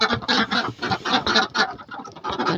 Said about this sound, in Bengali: সকালবেলা দেখেন আমাদের হাঁসগুলো বের হওয়ার জন্য কত দাপাদাপি করছে।